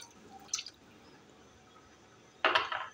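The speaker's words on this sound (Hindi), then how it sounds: "सबसे पहले इसके अंदर 1 कप दही डालेंगे।" Thick yogurt spooned from a cup onto drained, washed meat for chicken karahi, heard as a faint wet plop early on and then a louder, brief splatting slap near the end in a quiet kitchen.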